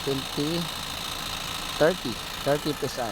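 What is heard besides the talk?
car engine running noise, Hyundai Accent CRDi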